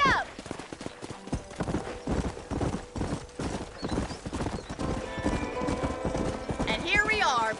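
Clip-clop of galloping horse hooves in a cowboy video game, rapid and steady throughout, with a whinny near the end and lively voices spoken over the hoofbeats.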